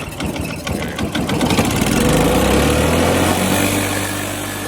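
A 196cc HISUN Honda clone small engine sputters to life and revs up, its rapid mechanical putter rising into a loud, steady buzzing drone close to the microphone before easing slightly.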